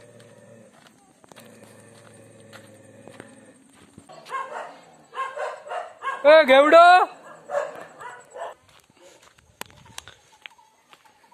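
Several dogs break into a sudden burst of loud, rapid barking and yelping in a village yard, with people chatting before and after the outburst.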